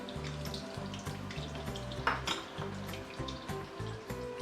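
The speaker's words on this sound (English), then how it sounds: "we just want to deep fry until you can see the surface, how the potato become brown, golden brownish" Potato pieces deep frying in oil for a Nyonya salted bean chicken stew give off a steady, dense bubbling sizzle, with light stirring and a brief metallic clink.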